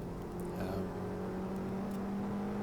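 A Peugeot 106 engine hums steadily on the Goodwood Motor Circuit, a constant low drone with mild rises in revs, loud and close as if heard from on board, with no talk.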